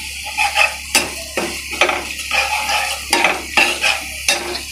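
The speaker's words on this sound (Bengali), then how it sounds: "দেখেন আমি সুন্দর করে রসুনটা এত সুন্দর করে ভেজে নিয়েছি" Garlic frying in a wok, stirred with a utensil in repeated scraping strokes about once a second over a steady close sizzle, with no voices.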